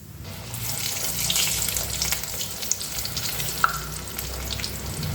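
Bhature puff as they deep-fry in hot refined oil in a kadai over medium flame, giving a steady bubbling sizzle that rises after the first second, broken by a couple of sharp spatula clicks.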